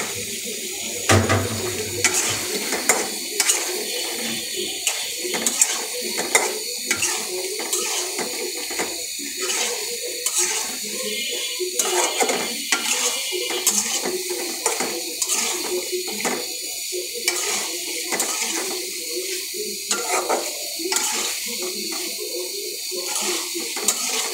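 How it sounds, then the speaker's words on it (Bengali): Cooked fish and hog plum (amra) are stir-fried in a pan, a steady close hiss of frying with a rapid run of spatula scrapes and taps against the pan that lasts throughout. "এবার একটু আমড়াটা দিয়ে একটু কষিয়ে ঝোল দেব।"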